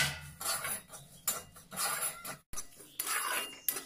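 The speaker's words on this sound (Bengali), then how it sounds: "এবার সুজিটা দিয়ে ভালো করে ভাজবো।" Semolina fries with a bay leaf in a pan while a spatula scrapes and clinks against the metal in repeated close strokes, fairly quiet.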